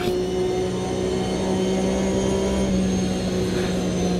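Porsche Cup race car engine in a racing video game, a steady sustained drone with a constant tonal hum, loud and continuous throughout with no talk.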